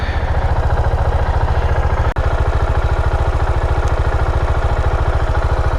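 A 2018 KTM 690 Duke single-cylinder motorcycle engine idling up close, a loud, even, rapid thumping pulse with one brief click, no talking.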